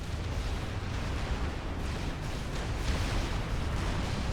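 Artillery fire and shell impacts from a 'fat boy' gun in a 6v6 strategy video game, a dense, continuous low rumble of booms and blasts rolling on steadily without a break.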